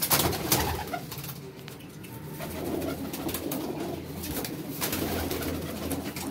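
A Firozpuri pigeon coos continuously in low, rolling murmurs close by, over a steady background hum with no talking.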